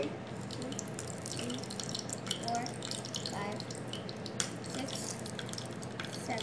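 Scrambled eggs cooking in a frying pan on a stove give off a steady, close crackling sizzle with small bubbling pops throughout, with no talking over it.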